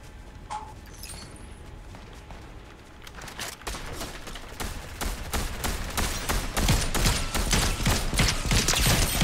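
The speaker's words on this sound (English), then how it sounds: "Shooting" Video game gunfire builds into a dense, rapid fusillade of sharp cracks, with mechanical clicks early on and steadily louder bursts of shots.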